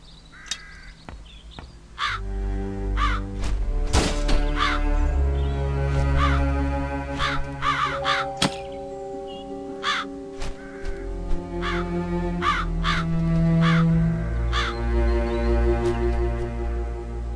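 Crow cawing in the fantasy adventure game Satinavs Ketten, a trapped crow giving repeated sharp caws at an irregular pace over a low droning musical background, loud and close.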